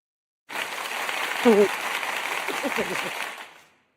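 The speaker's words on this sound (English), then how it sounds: "I'll just give myself an applause because I can" A short burst of applause, like a canned sound effect, starts abruptly, holds as a dense crackling wash for about three seconds, and fades out, with a brief vocal sound in the middle.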